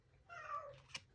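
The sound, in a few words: cat meowing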